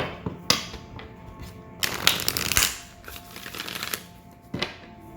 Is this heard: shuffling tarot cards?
yes